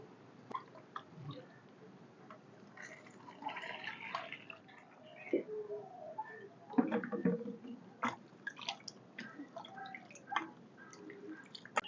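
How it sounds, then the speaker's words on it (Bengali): Two mangoes being washed under water by hand, with soft dripping, splashing and light rubbing sounds in a quiet indoor kitchen, irregular and fairly faint throughout. "প্রথমে আম দুটোকে খুব সুন্দর করে জল দিয়ে ধুয়ে নেব"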